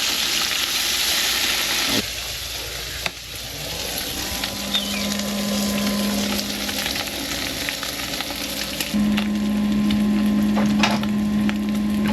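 Steady crackling sizzle of bacon frying in a pan aboard a boat, close and continuous, with a faint low hum running underneath.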